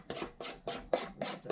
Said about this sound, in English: I'm going to try and scrape some more batter out.